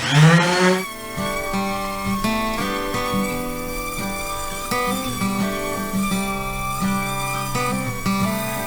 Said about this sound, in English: Just hit the top of this again with sander, clean up a little bit of those scratches from the saw.